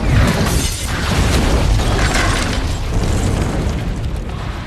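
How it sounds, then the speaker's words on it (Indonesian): A film grenade blast destroys a bakery: one huge, loud boom with a long roaring rumble and scattered debris that fills the whole moment. "sebuah granat yang telah disiapkan sebelumnya tiba-tiba meledak dan menghancurkan tempat itu"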